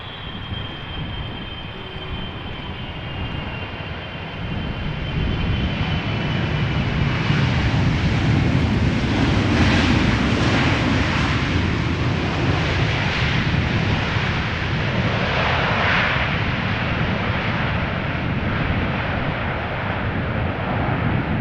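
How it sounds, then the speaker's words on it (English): Boeing 777-300ER airliner arriving at Amsterdam Schiphol, a distant rumble that swells into a broad, loud jet roar and stays sustained, with no voices. "It is a 777-300ER coming home from Sao Paulo after 10 hours and 55 minutes of flight."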